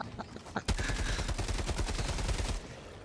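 An Airburst Rocket Launcher fires in the video game Helldivers 2 in a swamp, with a sharp blast followed by a rapid crackling run of small detonations that lasts about two seconds, loud and close.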